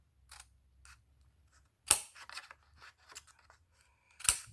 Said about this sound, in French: je vais venir couper un pied légèrement